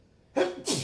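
A single sharp human sneeze, close and loud, bursting out in two quick parts within a second.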